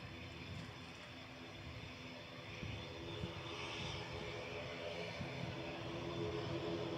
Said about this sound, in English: More noise from a prop.